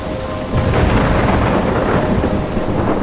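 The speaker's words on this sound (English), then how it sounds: "trapped in a storm?" A loud, steady downpour of rain with rumbling thunder rolls through a stormy night in Life is Strange, filling the scene continuously without any voices.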